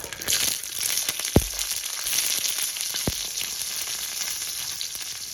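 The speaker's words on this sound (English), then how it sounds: "My pot is hot, so I'm gonna put my tomato" A tomato hisses and sizzles in a hot pot, a dense close frying sound broken by two sharp knocks of a utensil against the pot.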